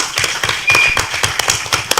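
Audience applause at a Bersih electoral-reform rally in Malaysia, a loose run of individual hand claps and taps with uneven rhythm throughout, fairly close and moderately loud, with no talking over it.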